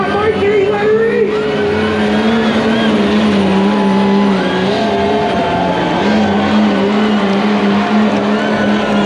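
A diesel pulling tractor roars at a harvest festival tractor pull, its engine loud and sustained with a rising, straining whine as the turbo spools. An announcer's voice runs over it.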